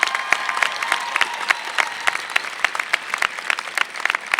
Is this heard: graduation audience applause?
yes